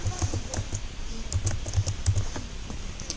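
Commands are typed on a computer keyboard during a Debian 8 server setup in VirtualBox, giving irregular clusters of close, crisp key clicks with brief pauses between bursts.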